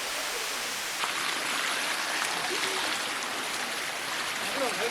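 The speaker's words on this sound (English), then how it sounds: "we're gonna go climb the waterfalls" Steady, broad rushing of the Bua Thong waterfall near Chiang Mai, Thailand, loud and continuous, with no pauses.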